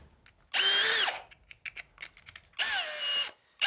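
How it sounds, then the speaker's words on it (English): Power drill fitted with a nut driver driving screws for a Roku Pro Series TV wall mount, two loud whirring bursts with the motor pitch sagging under load, separated by light clicks and handling taps, close and without talk. "we're going to switch over from our pilot bit to our nut driver"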